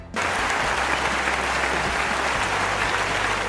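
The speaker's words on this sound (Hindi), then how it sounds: "अपने लिए खुद ही तालियां" Loud, dense applause from a studio audience on a quiz-style show, starting abruptly and holding steady as a continuous wash of clapping with no speech.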